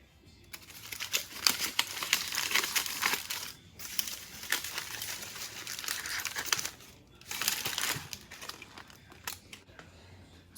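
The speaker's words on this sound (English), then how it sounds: "now we're going to remove the foil and the beans" Aluminum foil crinkles and crumples as it is pulled out of a baked pumpkin pie crust lined with pie beans. Close, rustling bursts come in several waves, separated by brief pauses.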